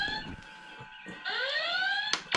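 Electronic alarm sound effect from a Playmobil 70548 Star Trek toy: a loud, tonal siren-like wail with rising sweeping pitches, briefly interrupted, then resuming strongly before a sharp click at the end.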